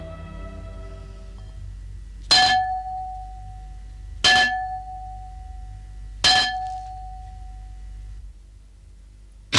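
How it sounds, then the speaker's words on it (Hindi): A bell struck three times at even intervals, each a bright ringing clang that decays over about a second, with quiet background between strikes. "तो तुमने ये घंटा बजाया है?"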